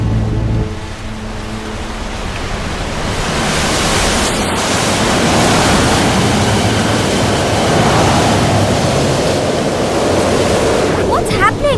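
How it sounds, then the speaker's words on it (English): Sudden strong wind sweeps outdoors near a village, a broad roaring gust that swells and holds steady, buffeting the microphone with rushing noise throughout. "Why is it windy all of a sudden?"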